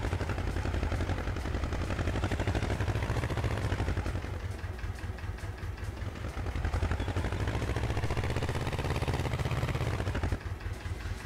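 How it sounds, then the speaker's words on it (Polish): A farm tractor engine idles close by with a rapid, even low chugging that holds steady for about eleven seconds, dipping slightly midway before picking back up. "Główny ciągnik na gospodarstwie."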